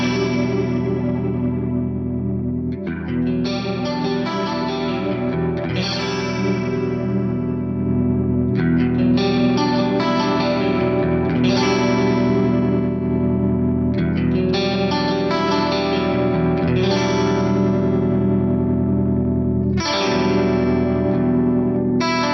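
Electric guitar through the Quad Cortex chorus effect, cycling through its full, thick, open and broad voice modes: repeated strummed chord phrases with shimmering, wavering tone and light distortion, played alone without talk.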